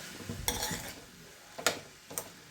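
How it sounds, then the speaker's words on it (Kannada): A spoon stirs sweetcorn uppittu in a pan, giving a few quiet scraping strokes against the metal with soft gaps between them. No one talks. "ಸೊ ಇದು ಸಾಫ್ಟ್ ಆಗೋ ತನಕ ಹೀಗೆ ಕೈ ಆಡ್ತಾ ಇರಬೇಕು ಚೆನ್ನಾಗಿ ಮಿಶ್ರಣ ಮಾಡಬೇಕು"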